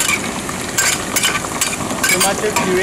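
Tomato puree hitting browned onions in a pot, giving a steady, close sizzle with faint stirring scrapes that swell now and then over about three seconds.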